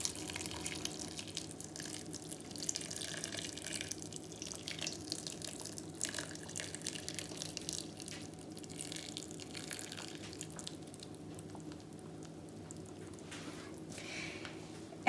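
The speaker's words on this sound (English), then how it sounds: "I've got 3 cups of warm water here. We're going to pour it over the peat disc, which will magically expand." Three cups of warm water poured over a compressed peat disc, a steady trickle and patter of liquid with faint drips and soft squishing running evenly throughout, fairly quiet and close.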